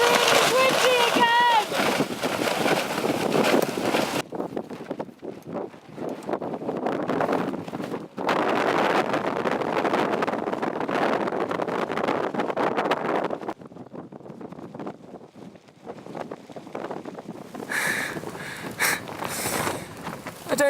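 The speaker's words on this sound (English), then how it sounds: "It's really, really windy again!" Strong wind roars and buffets across the mountain at Camp 1 on Cho Oyu, heavy gusts pounding the microphone in surges that ease and return, with a voice talking over parts of it.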